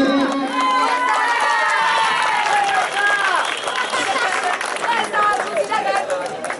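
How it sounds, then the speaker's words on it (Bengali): An audience claps and cheers at a junior cricket tournament award ceremony, the applause mixing with crowd chatter and voices throughout. "জোরে হাততালি"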